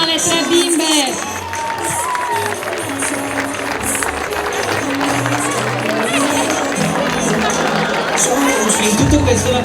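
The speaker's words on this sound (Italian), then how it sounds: "Un applauso signori per questa coraggiosa mamma insieme alle 3 bimbe." An outdoor crowd at a village pageant event cheers and claps for a mother and her three little girls, a loud, continuous mix of voices, shouts and applause.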